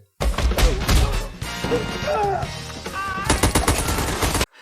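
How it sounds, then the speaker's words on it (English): Rapid bursts of anime gunfire from a Cowboy Bebop scene, loud sharp volleys crackling nearly continuously for several seconds, with a brief lull in the middle before another hard burst. "And only then they start firing at him."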